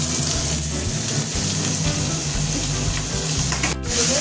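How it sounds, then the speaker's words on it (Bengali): Fried rice frying in a pan at a busy outdoor food stall at the Coochbehar Rash Mela fair, a steady loud sizzle over a deep low crowd-and-generator hum, no talking. "বৌদি ভাই রান্না করছে ফ্রাইড রাইস"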